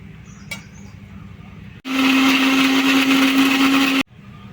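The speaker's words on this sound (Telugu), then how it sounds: "ఇవన్నీ ముందు మిక్సీ పట్టేసుకుందామండి" A mixer grinder blends a paste of small onions, garlic, ginger and salt, a loud steady motor whine that starts abruptly after a quiet moment and cuts off sharply about two seconds later.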